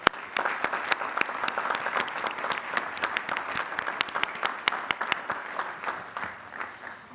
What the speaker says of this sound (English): Please recognize the master's degree recipients with our hearty congratulations and applause.